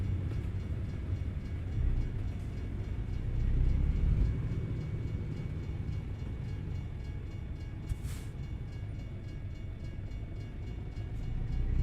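A train in the American Truck Simulator game rumbles past on the rails in a continuous, heavy low roar, with a brief horn-like burst partway through and no talking.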